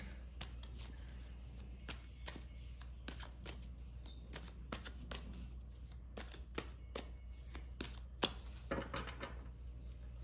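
Tarot cards being shuffled by hand, a quiet series of quick riffling and flicking bursts at an uneven rhythm, close and soft, with no talk.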